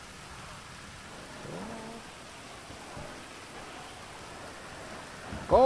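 A steady hiss of rain, with faint low rumbles of thunder, plays in the weather of the Grand Theft Auto V game world. It is soft and continuous, and a brief louder tone cuts in at the very end.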